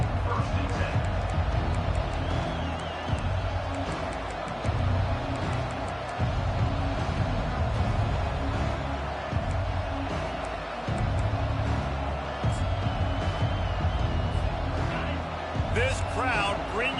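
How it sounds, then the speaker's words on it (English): A packed LSU college football stadium crowd roars in a loud, continuous din, with a game commentator talking over it. "This crowd bringing an ear-splitting welcome to their visitors"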